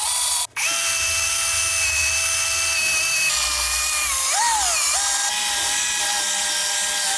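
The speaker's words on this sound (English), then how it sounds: "I then use the wire brush to brush off the gasket." A wire brush spinning on a power tool scours an old gasket off a differential housing, giving a steady close whine that wavers in pitch as it bears against the metal, with no talk.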